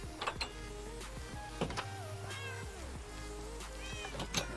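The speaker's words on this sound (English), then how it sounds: "Is that one of my cats?" A cat meows repeatedly in Minecraft, several clear, fairly close mews over a steady low background hum, with no talking.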